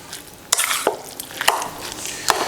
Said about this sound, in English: at this point I'm going to mix this